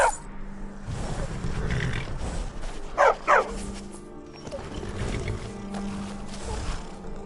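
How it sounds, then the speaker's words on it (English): War dog in Skyrim giving two sharp barks in quick succession mid-clip, set against a low rumbling game ambience with indistinct murmuring before and after. "Need a trained war dog?"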